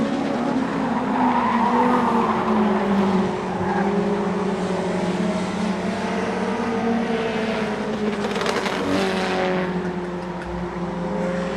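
Race cars in a Super Short Track Racing Series event circle a short track, engines droning loudly and continuously with screeching tires and skidding as the pack passes, heard close and steady.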